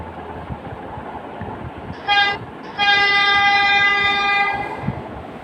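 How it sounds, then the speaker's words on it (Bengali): Two tonal horn-like blasts over steady rumbling noise, a short one followed by a longer sustained tone, like an electronic train horn in a metro train video game. "পাতাল রেলের গেম।"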